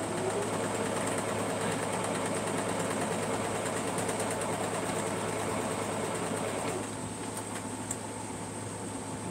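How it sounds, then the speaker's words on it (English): A sewing machine runs continuously, stitching down hexagon quilt pieces, as a steady whirring drone with a constant hum; the sound drops slightly in level near the end. "Start sewing them down."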